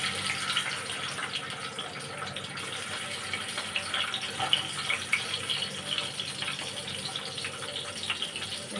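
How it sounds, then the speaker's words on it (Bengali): Boiled eggs and potatoes frying in a pan give a steady, dense sizzle that holds at an even level throughout, with no voices. "দেখো বন্ধুরা, ডিম আলুটা ভেজে নেবো।"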